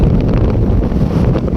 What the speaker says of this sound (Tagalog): Malakas na po talaga yung ano, hangin sa background.